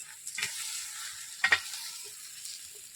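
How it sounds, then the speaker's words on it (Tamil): Broken eggs are stirred into kothu parotta on a hot griddle, bringing a soft, steady sizzle with a few sharp metal scraping clicks from the stirring, one louder clatter midway, and no talking. "இந்த முட்டையை உடச்சு ஊத்திக்கலாங்க. நல்லா கிளறி விட்டுக்கலாங்க."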